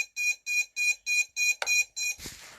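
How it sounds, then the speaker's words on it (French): Drone flight controller beeper sounding six sharp, evenly spaced electronic beeps close up, followed by a brief clatter and a softer trailing tone, with no talk. "Il y a un buzzer caché quelque part."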